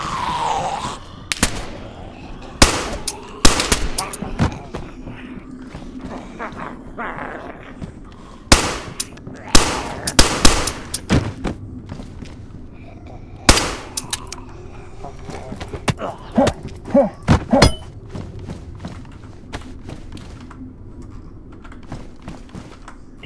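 Scattered gunshots from the DayZ survival game in a snowy winter Chernarus setting, sharp cracks in uneven bursts of single shots and quick doubles, fairly loud over a low rumbling background with no talk.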